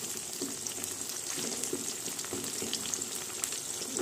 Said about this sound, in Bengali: এদিকে গাজর আলুটা আমি ভাজা শুরু করেছি, মোটামুটি একটু লাইট করে আমি ভেজে নেব।